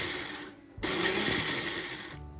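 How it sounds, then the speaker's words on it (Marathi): A mixer grinder on pulse mode grinds emmer wheat into coarse grits: two close, loud motor whirs with grain rattling in the jar, the second burst longer, separated by a short pause. "मिक्सरला थोडंसं पल्स मोडवरती मी फिरवून घेते त्याला"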